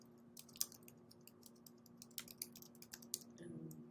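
Quiet typing on a computer keyboard, irregular soft key clicks in short bursts, close and fairly faint with a steady low hum underneath.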